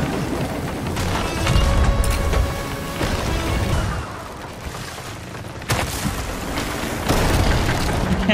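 Cannons fire repeatedly in a video game naval battle, booming, splintering blasts recurring every second or two over constant loud battle noise, with no talk.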